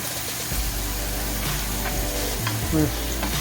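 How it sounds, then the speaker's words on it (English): Peppers for jambalaya fry in a pan with a continuous loud sizzle. Repeated stirring scrapes run through it, along with a low steady hum underneath and no clear talk. "we're gonna stir it for about 10 minutes until it browns"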